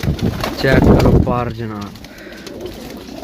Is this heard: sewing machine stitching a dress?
no